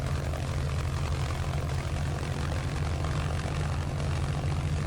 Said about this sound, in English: Engine warm up.